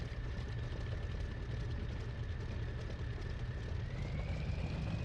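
A cold-started propeller aircraft engine idles in a flight sim, a steady low rumble with a thin whistling tone riding above it that rises slightly in pitch toward the end.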